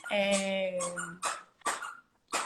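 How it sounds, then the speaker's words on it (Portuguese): A dog plays with a unicorn toy, giving a drawn-out whining whimper followed by a few short squeaky yelps and bursts, fairly close and moderately loud, with no one speaking. "esse barulhinho é do meu cachorro aqui"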